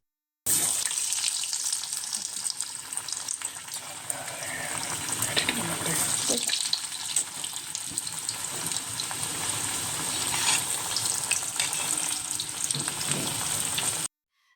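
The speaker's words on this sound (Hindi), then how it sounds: "तो चलिए इसको डालते हैं हम फ्राई करने के लिए।" Breadcrumb-coated cheese corn balls deep frying in hot oil, giving a steady, close hiss and bubbling sizzle throughout with a few soft knocks.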